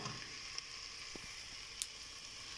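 Fresh sliced tomatoes added to a pan with a little hot oil give a soft, steady sizzle, quiet and close, with a few faint pops and clicks and no talking.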